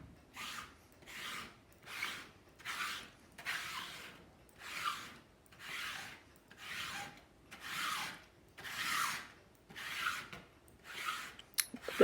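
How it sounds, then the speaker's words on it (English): A baking sheet is pressed firmly and rubbed over paper for a collage print transfer, giving about eleven quiet, rhythmic scraping strokes that rise and fall evenly, with no talking. "Makes a very nice scrapey noise."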